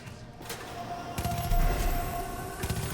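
Weapons firing in the Far Cry 5 video game: a short shot near the start, then a loud sustained volley of rapid gunfire with a few sharp cracks toward the end.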